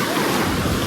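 Sea waves wash in a steady, loud roar at Kashid beach on a crowded shore, mixed with wind buffeting the microphone and no clear break in the surf.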